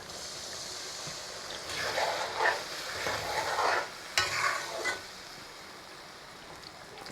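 Water poured into a pan of sizzling duck meat braising in a home kitchen, giving a rising hiss and bubbling burst that fades back to a steady low sizzle.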